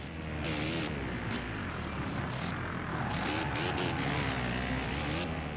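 Motocross bike engines in the MXGP video game on PS4 whine and rev with shifting pitch, several buzzing motors overlapping and rising and falling steadily, loud and continuous.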